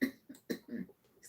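A person coughs several times in quick, close bursts, a lingering cough that keeps coming back, each hack short and dry with brief gaps between them, near and moderately loud with no speech.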